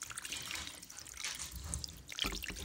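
Water pours into a pan in a home kitchen, a soft close trickle with a few brief splashes and drips, alone and fairly quiet.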